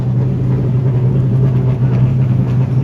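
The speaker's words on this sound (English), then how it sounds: "Pro cars are starting to roll to tech now" Pro race cars idle and roll toward tech inspection at a CARS Tour throwback event, a steady loud low engine drone with constant rumble throughout, no voices.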